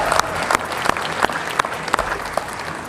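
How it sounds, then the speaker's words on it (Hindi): Applause for a poet at a Hindi poetry gathering, steady crowd clapping punctuated by several sharp, louder individual claps at regular intervals. "जोरदार तालियां डॉक्टर पूनम वर्मा को"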